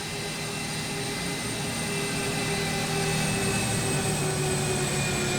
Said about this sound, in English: That actually sounds like a jumbo jet.